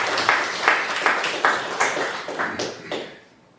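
A congregation at a church worship service claps in slow, rhythmic unison, about eight evenly spaced beats that fade out at the end.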